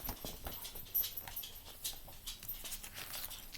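A pet dog indoors near a couch whimpers softly and faintly in short, breathy bursts, with light panting and shuffling around it.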